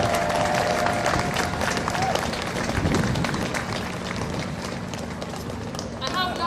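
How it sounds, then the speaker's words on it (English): Audience applause for musicians at a live event, a dense steady wash of clapping and crowd noise sustained throughout, fairly loud and continuous. "So please give them another big round of applause."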